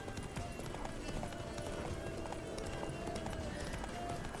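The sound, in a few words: horse galloping hooves in The Witcher 3 video game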